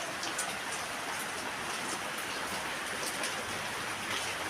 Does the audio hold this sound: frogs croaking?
no